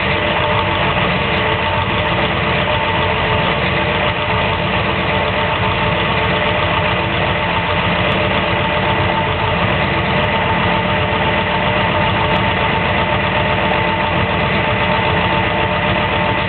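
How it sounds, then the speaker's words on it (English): A Ford 393 stroker V8 (351 Windsor based) with FAST EFI idles loud and close, a steady, continuous rumble with a slightly uneven, lumpy throb throughout as the fuel system is still learning. No voices. "It's not idling quite right"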